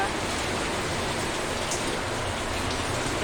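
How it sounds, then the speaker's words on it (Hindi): Rain falls steadily and evenly, a dense close hiss of drops on surfaces with no pauses. "देखो बारिश बारिश आ रही तो कैसे जाएंगे"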